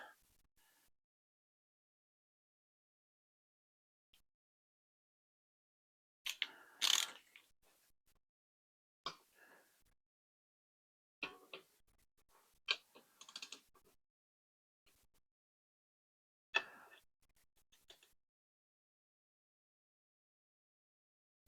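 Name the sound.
torque wrench tightening turbocharger bolts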